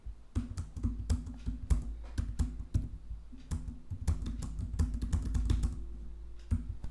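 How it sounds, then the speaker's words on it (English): Keys tapped on a computer keyboard in an irregular stream of close, crisp clicks, steady over a low hum with no voices. "Let's just type instead."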